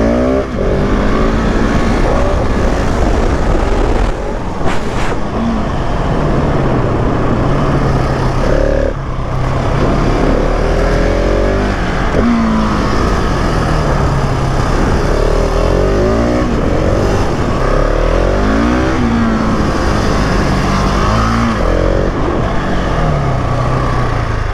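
A GasGas 700 motorcycle engine revs continuously while being ridden, loud and close, rising and falling in pitch through gear changes with no pauses.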